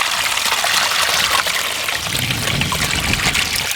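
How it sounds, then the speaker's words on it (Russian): Vinegar brine with pepper and bay leaf pours over a goose in a continuous close splashing gush, trickling and streaming steadily without pause. "И вот этот гусик у нас заливается вот этим рассолом."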